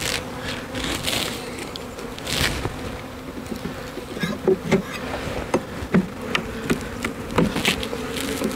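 Honey bees buzz in a weak beehive that has early wax moth signs. A steady close droning hum runs throughout, with louder passes of single bees and faint clicks from handling the frames.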